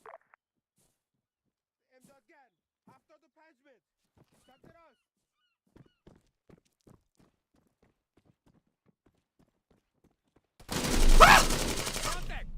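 A burst of machine gun fire in the Arma 3 military shooter on the island of Bornholm, loud and dense, comes after a long near-silent stretch with faint scattered voices.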